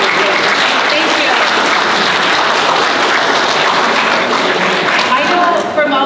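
Sustained applause from a sizable crowd, dense steady clapping throughout at full volume.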